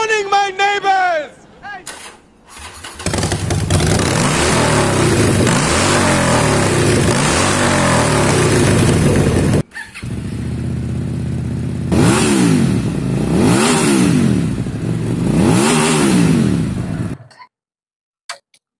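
A 2023 QJMotor SRV250 and a 2012 Harley-Davidson Sportster 48 motorcycle engine run, with a steady loud idle, sharp blips and repeated revs rising and falling. Someone talks briefly at the start, and the sound cuts off near the end.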